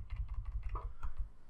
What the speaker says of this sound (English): holding Alt and Shift on your keyboard, just make it smaller, and using your arrow key